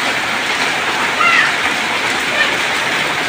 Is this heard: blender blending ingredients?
no